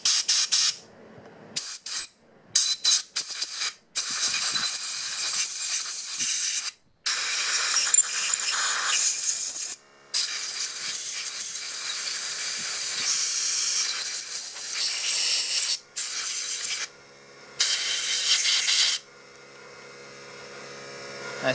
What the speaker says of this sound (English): now I've got my air gun, and I'm gonna just blow out these holes